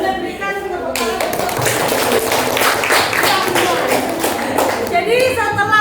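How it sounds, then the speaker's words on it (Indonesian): A classroom audience claps after a group presentation, a dense burst of applause swelling for several seconds before tapering off, with voices faintly audible at the start and end. "Boleh berikan tepuk tangan."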